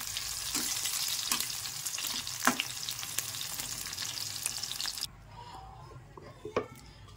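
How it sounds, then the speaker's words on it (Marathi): Green chillies fry in hot oil with a steady sizzle and occasional stirring taps, the sizzle dropping sharply quieter partway through as a few louder clinks and pops continue. "अशा पद्धतीने सगळ्या मिरच्या आपल्याला तळून घ्यायच्या आहेत।"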